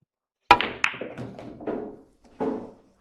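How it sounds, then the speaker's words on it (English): A firm pool break shot with straight topspin: a sharp cue-ball crack into the racked balls, then a scatter of lighter clacks and thuds as balls knock together and roll on the table, close and without talk. "I'm going to shoot with straight topspin, no left or right."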